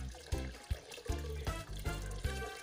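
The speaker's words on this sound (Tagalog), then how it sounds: "Lalagyan natin ng tubig." Tap water runs into a pot holding beef ribs, a steady close flow broken by regular splashy surges and clunks.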